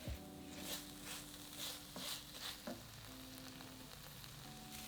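Onions and peppers sizzle quietly in a pan as harissa paste and tomato puree are stirred in, with soft scrapes and knocks of a utensil over a low, steady frying hiss.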